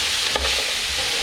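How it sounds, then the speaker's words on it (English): Curried wild hog frying in a pot as its cooking water dries off, giving a steady close sizzle with a brief stirring scrape, alone and without talk. "it's dry and it's kind of frying up now"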